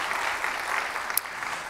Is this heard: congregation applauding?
yes